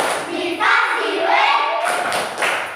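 Children perform a 'tepuk wow' clapping chant in a grade 5 classroom, with a burst of claps and thumps alongside shouted young voices, loud and close, in rhythmic bursts.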